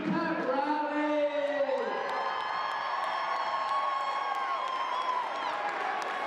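Hundreds of high school students cheer and whoop in a gym at a winter sports pep rally, a dense sustained crowd roar with a rising shouted tone early on and no clear gaps.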